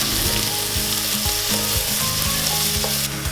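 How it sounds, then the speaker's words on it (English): Onions sizzle steadily in a hot frying pan, a close, continuous crackle with no voices. "So now I'm going to add my onions. Ooh, sizzle, sizzle."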